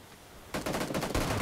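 Rapid automatic gunfire in PUBG New State erupts after a brief quiet stretch, dense repeated shots in fast bursts, loud and close, with no talking.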